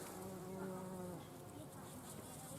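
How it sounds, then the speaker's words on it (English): Bumblebees, including tree and early bumblebees, buzzing around comfrey flowers in a bee-friendly May garden: a dense, continuous close-up drone of many wings, with faint background noise. "Tree bumblebees, early bumblebees."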